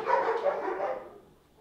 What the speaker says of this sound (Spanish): Está dándole por culo a los perros esta gente.